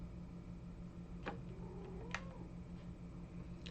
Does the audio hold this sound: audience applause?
no